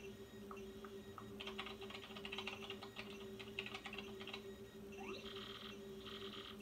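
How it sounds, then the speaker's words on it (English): Rapid keyboard typing in Paper Mario: The Thousand-Year Door, soft clicking taps in bursts over a steady humming game soundtrack. "Use the keyboard to send whatever message you want."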